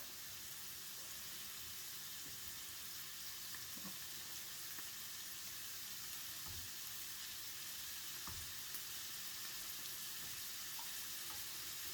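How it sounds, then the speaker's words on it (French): Onions cooking in a pan for beef lasagne, a faint, even sizzle with a few soft clicks of stirring and no voices. "Et j'attends que mes oignons soient translucides avant de rajouter la viande de bœuf"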